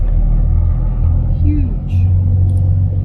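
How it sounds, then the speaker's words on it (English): Big trucks with massive wheels rumble past a car on the Gibb River Road in outback Australia, a deep continuous engine drone rising as one passes close by, with people talking inside the vehicle. "The big trucks."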